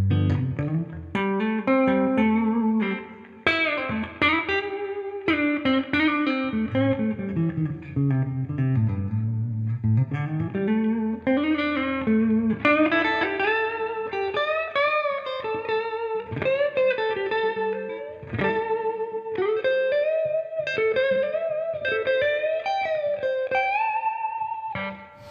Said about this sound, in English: So we have our neck pickup again on the Les Paul and it's going to sound like this